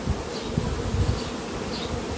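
Honeybees crawling over a brood comb frame of a hive with a young queen, giving a steady, soft, continuous buzzing hum close by, with a few slightly louder low swells from individual bees.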